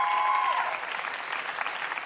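A television studio audience gives the girls a round of applause, a dense, even clapping that starts under a brief ringing tone and then carries on alone.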